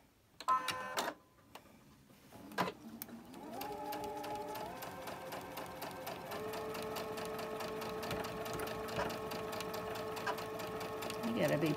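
A sewing machine stitches a quilt block in a steady, fast mechanical rattle after a few short starts and clicks, close and fairly quiet, running continuously to the end.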